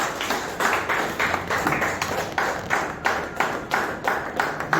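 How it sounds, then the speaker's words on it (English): An audience at an Institution of Valuers founder's day event claps steadily, a continuous patter of many hands with a rhythmic pulse, close and fairly loud, with no voices. "all of us should put our hands together to clap"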